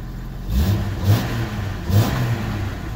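A 1996 Jeep XJ engine, a donor vehicle that sat unused for a while, revs up three times from idle, each brief rise swelling and falling back, close and fairly loud with no talking.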